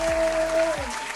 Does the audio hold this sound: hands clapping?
yes